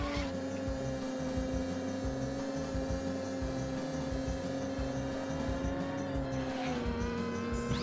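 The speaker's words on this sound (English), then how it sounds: "I can hear you buzzing in your little car." A steady, buzzing go-kart engine from the video game Mario Kart 64, a 150cc race, drones on without a break, with faint tire squeals and game effects layered on top and no one talking.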